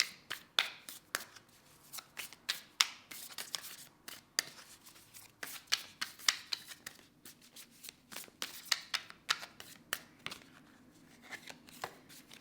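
Tarot cards are shuffled and drawn in a series of quick, crisp riffling snaps and flicks, close and fairly quiet, arriving in irregular bursts.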